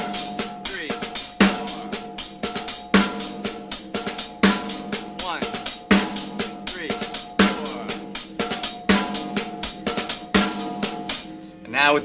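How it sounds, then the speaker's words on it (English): Slow drum beat played on a kit, a groove of backbeat snare hits filled with soft ghost strokes and double-tap drags, with steady cymbal ticks keeping time, close and alone. "I sometimes like to mix up the ghost stroke with double ghost strokes, which is a double tap, which in rudimental terms is called a drag."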